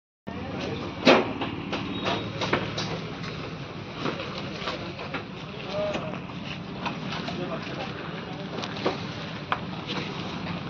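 A train runs past a closed railway gate at a busy, jammed road crossing, giving a steady rumble with scattered clanks and thumps throughout, while traffic noise and voices mix in around it.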